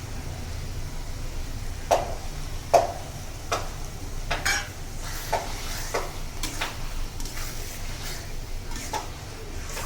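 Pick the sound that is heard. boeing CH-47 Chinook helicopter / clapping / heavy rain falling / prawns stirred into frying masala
prawns stirred into frying masala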